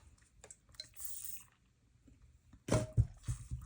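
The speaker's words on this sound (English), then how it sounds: "I need another drink." Someone drinking water, starting with quiet faint handling and ending in a few close, brief gulping and swallowing sounds.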